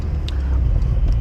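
Porsche 911 Carrera 4S Cabriolet engine holding a loud, steady low rumble at launch control, close and continuous with no talk.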